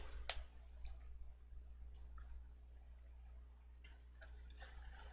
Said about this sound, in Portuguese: Eu vou aqui digitar no teclado mesmo